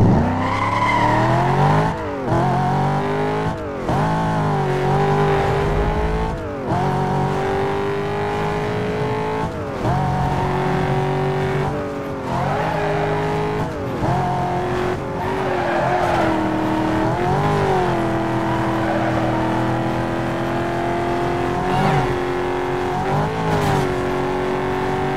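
In Need for Speed: Most Wanted, a stock car drives along with a continuous engine note that climbs and drops through repeated gear shifts and revs, loud and close throughout with no talk.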